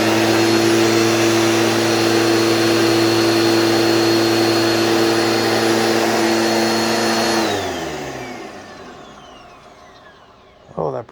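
A Bissell PowerForce Bagless 6584 vacuum cleaner with a 10 amp motor runs loud and steady with a harsh rattling brush roll, then spins down over several seconds and goes quiet, ending with a short clunk.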